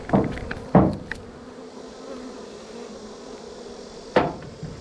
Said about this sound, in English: See a nice load of bees in there.